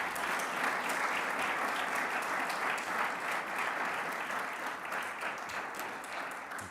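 Sustained audience applause at a New York governor's press event, dense steady clapping filling the room at even loudness throughout, no voices over it.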